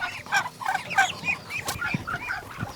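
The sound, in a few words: ducks on a farm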